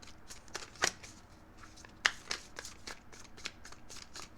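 Tarot cards being shuffled close to the microphone, soft riffling swishes and a few sharp papery snaps at irregular intervals, quiet with no talking.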